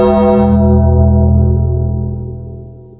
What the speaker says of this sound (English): The gong struck, and there was the Dream once more